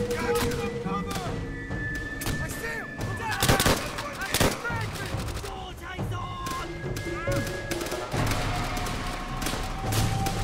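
Gunfire rattles through a Call of Duty: World at War battle, with repeated rifle shots, bursts and heavy booms over a busy combat din while someone talks.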